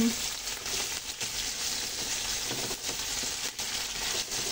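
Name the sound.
sautéing chicken liver in a pan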